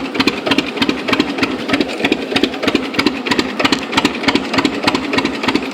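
A John Deere G tractor engine runs close by while turning in a field, a steady rhythmic chugging thump with a rattling mechanical edge.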